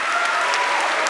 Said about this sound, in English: can we have another go at that massive round of applause